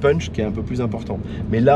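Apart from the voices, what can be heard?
None of the usual background noises is heard.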